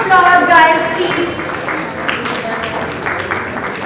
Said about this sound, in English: Keep your applause coming.